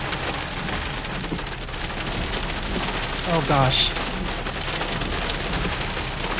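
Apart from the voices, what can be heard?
hail and rain falling during a thunderstorm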